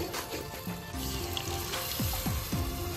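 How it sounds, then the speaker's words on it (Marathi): Water is poured into a pan of fried onion and spices while cooking fish outdoors, a steady close splashing and gurgling pour lasting the whole moment, with no talk. "कांदा आणि मसाले परतून घेतल्यानंतर यात आता आपण पाणी टाकणार आहे"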